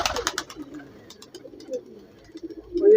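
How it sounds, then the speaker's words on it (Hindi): Pigeons kept in a home loft, including a prized bird named Teddy, coo softly and repeatedly against a low background, with a brief louder flutter or call at the start and a stronger coo near the end. "टैडी ये टैडी कबूतर है मेरे खुडे का बेस्ट कबूतर।"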